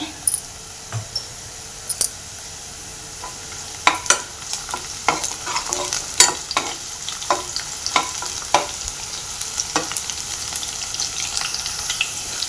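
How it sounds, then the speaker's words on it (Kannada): Onions fry in oil in a pan for chole, giving a steady close sizzle punctuated by sharp clicks and scrapes from a spoon stirring against the pan. No one speaks. "ಅಷ್ಟು ಈರುಳ್ಳಿ ಫ್ರೈ ಆಗ್ತಾಯಿದೆ"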